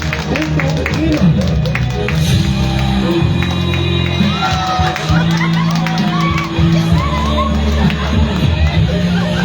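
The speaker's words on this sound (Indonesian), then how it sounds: "Tepuk tangan untuk Inam." A loud crowd at a Christmas church celebration claps, cheers and shouts for a winner, with children's whoops and voices mixed into the dense, sustained noise.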